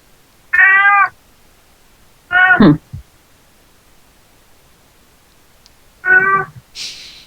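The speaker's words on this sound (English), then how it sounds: "The cat is not loud enough I can hear it in stereo." A cat meows three times at a middle distance, each meow short and clear, with long quiet gaps between them and a faint rustle at the end.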